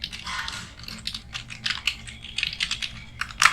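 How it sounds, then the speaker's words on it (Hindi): A company email ID being typed on a computer keyboard: a quick, uneven stream of close, crisp key clicks and taps with short pauses, and no voices. "तो यहाँ पे मैंने कंपनी का मेल आईडी टाइप कर दिया"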